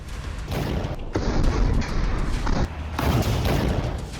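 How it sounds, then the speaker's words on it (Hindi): Explosive blasts strike an IDF Merkava tank in combat, heard as a series of loud, heavy booms and rumbling bursts recurring across several seconds with no talking. "जैसे ही आईडीएफ के टैंक इसके करीब आते हैं वैसे ही ये बारूद फट जाता है।"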